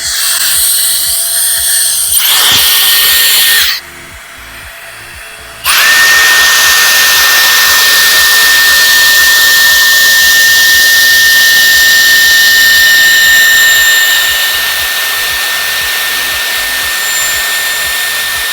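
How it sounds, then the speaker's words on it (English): A Dyson Airstrait hair straightener blows air while straightening hair, giving a loud, high-pitched whooshing whine that cuts out briefly for a couple of seconds and then resumes steadily. "Just like you do with your regular straightener, I'll be straightening my hair."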